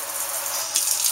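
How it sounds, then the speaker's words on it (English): Water sprays from the pull-down head of a Pilar Delta kitchen faucet, a close, steady rushing hiss that shifts slightly in texture partway through as the spray pattern changes. "The pull-down spray head also features two different spray patterns."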